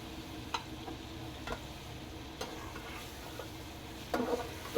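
Eggplant and green chillies stirred in a pan with masala for baingan masala sabzi, giving a low steady sizzle with a few scattered scrapes and taps of the spoon against the pan.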